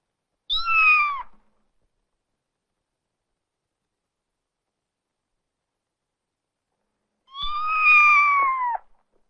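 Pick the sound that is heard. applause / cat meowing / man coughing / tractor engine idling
cat meowing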